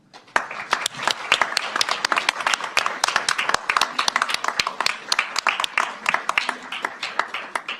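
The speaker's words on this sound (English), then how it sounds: "Please give Yadushala Larasim-Hacha a round of applause." Graduation ceremony audience applauding a graduate at the UTHealth SBMI commencement, a hall of steady clapping with crisp distinct hand claps, building quickly then tapering off toward the end.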